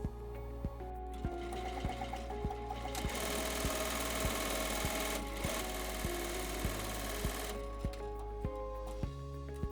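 A ZSK embroidery machine stitches a running placement outline for an in-the-hoop mask, its needle tapping in a fast, steady rhythm with a whirring motor, loud and close throughout.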